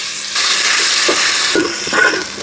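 Garlic sizzles steadily in hot soybean oil with cinnamon, cardamom, bay leaf and browned onion paste, a continuous close frying hiss that swells slightly partway through.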